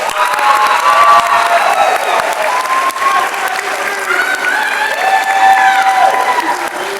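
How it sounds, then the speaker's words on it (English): Audience at a Distinguished Young Women scholarship program in Boyle County clapping steadily, a dense sustained wash of applause with some scattered cheers and shouts throughout. "Let's give them another round of applause."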